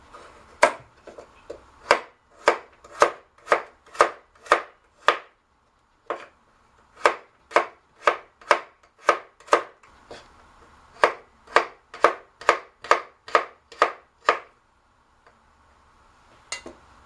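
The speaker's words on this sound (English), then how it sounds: "Now we cut radish." Radish being cut on a cutting board for coleslaw: sharp, close knife chops in quick even runs, with short pauses between bursts and a final lone chop after a gap.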